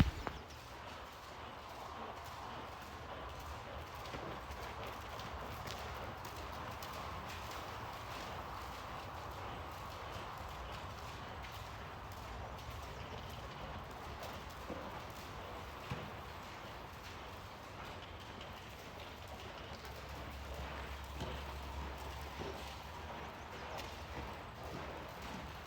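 Horse loping around a barrel in a spiral and circle pattern during barrel horse training, with soft steady hoofbeats on an arena surface under a constant background hum, moderately distant.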